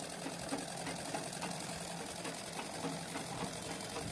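A sewing machine stitches a puff sleeve for a small girl's garment, running in a fast, even, continuous mechanical rhythm close to the microphone, alone and without any talking.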